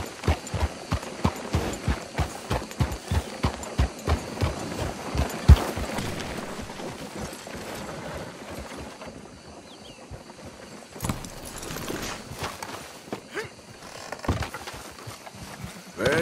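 Horse hooves clip-clop in a steady trot during riding in a PS4 video game, regular close hoofbeats that thin out into looser footfalls over faint background.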